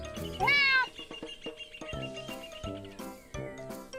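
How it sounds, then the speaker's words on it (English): A domestic cat gives a single clear meow near the start, then quieter background sounds follow. "A cat."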